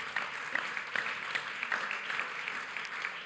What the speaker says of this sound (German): genau, Applaus.